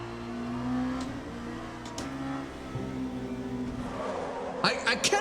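A car engine in a racing video game hums and revs steadily under a player's talk, holding a continuous drone with small rises in pitch.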